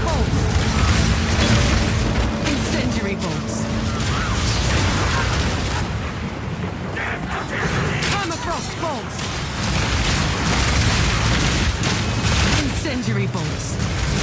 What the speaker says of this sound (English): Permafrost bolts. Incendiary bolts.